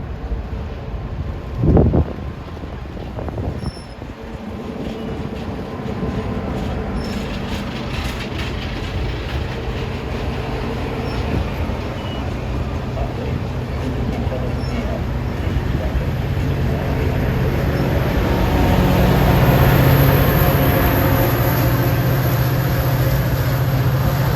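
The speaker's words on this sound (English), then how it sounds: "Now 123 is departing on his long local jaunt to San Francisco, the North White Plains local of Caltrain." Caltrain local train 123 pulling out on its long run toward San Francisco, a steady rumbling roar that builds gradually and grows louder toward the end, heard outdoors trackside with wind buffeting the microphone.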